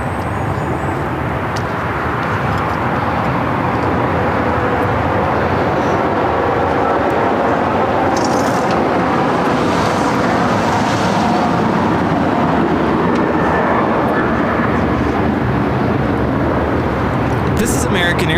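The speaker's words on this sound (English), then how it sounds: "taking off to Nashville on the 737-800" An American Airlines Boeing 737-800 taking off for Nashville gives a loud, continuous jet roar that holds steady throughout, with talk heard at times over the engine noise.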